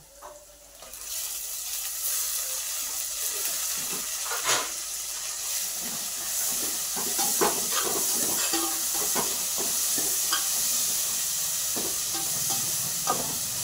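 Soaked chana dal sizzling and hissing in hot oil, a continuous bright frying noise with crackles and pops sustained throughout after a brief quieter start.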